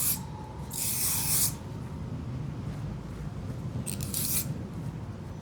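Two hissing bursts of hair spray misted onto a finished bob haircut in a salon, the first lasting over a second, the second shorter, close and clear above a quiet room murmur.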